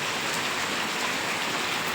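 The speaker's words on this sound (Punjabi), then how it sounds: "ਦੇਖ ਲਓ ਕਿੰਨੀ ਜ਼ਿਆਦਾ بارش ਆ ਰਹੀ ਆ" Heavy, steady rain pours down without pause, a dense continuous hiss of drops drumming on surfaces close by, with no voices.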